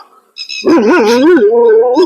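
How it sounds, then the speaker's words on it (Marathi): A dog on a goat farm gives a loud, close, drawn-out wavering bark that slides into a whine after a brief quiet start. "कुत्रे पळत आलेले आहेत"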